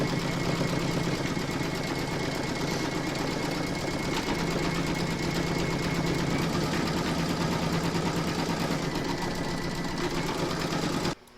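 An embroidery sewing machine runs a quilting pass, its needle hammering at a fast, even rhythm under a constant motor whir that continues for many seconds before stopping abruptly.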